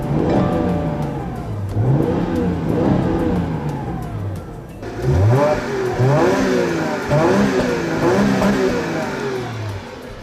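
A 2015 Chrysler 200S or Subaru Legacy 3.6L engine revs repeatedly through fluted exhausts, rising and falling in several strong bursts, loud and close with no talking.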